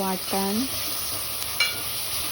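Oil, onion, garlic paste and tomato sizzle loudly in a pan, a steady close frying hiss with stirring scrapes and brief tonal clinks.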